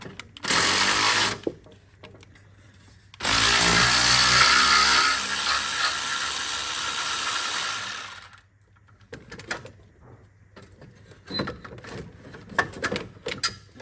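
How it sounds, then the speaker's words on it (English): Ratchet work on a 10mm manifold bolt of an LS1 Holden Commodore, with bursts of rapid mechanical clicking and whirring separated by pauses, then scattered tool clatter. "I'll just undo this last 10mm bolt holding the manifold onto the head"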